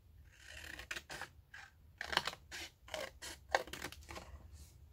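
Scissors snip through paper cut from a book page, a run of short, crisp cutting bursts up close in a quiet room, with no speech.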